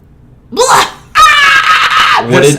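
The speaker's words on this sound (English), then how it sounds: "I apologize for the screaming, but it's gonna happen more." A man screams excitedly during a podcast about E3 2018 gaming news, a short yell followed by a long loud sustained scream and another burst, close and alone.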